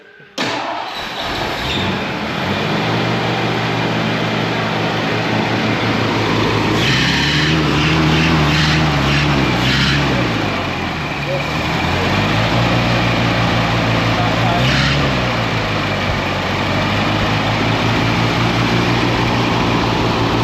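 A 1974 Ford Ranchero with a 351 Cleveland V8 and a carburetor idles steadily while warming up, a loud, continuous near rumble with slight swells in revs and no talk.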